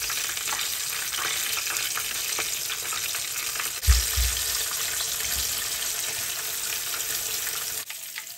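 Ribbon fish deep-fries in hot oil with a continuous dense crackling hiss, a brief low bump partway through and a sudden drop near the end.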